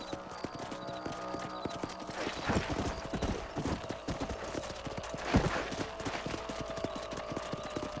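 Horse hooves clip-clop in a steady rhythm across a ranch in Red Dead Redemption, with occasional louder hoof strikes, snorts and faint voices under the ambience.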